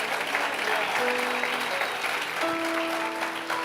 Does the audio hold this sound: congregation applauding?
yes